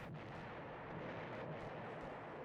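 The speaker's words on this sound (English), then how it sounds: "stock explosion sound effects" Stock explosion effects in the Eternal Darkness: Sanity's Requiem Great War chapter, a continuous rumbling barrage of distant artillery-like blasts, dense and steady with no voices over it.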